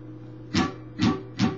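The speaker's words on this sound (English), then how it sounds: "Chucking is basically where you're just holding the strings so they're muted, but you still strum them, so we get this sound" Electric guitar chucking: three sharp muted-string strums, evenly spaced and close, over a steady low amplifier hum.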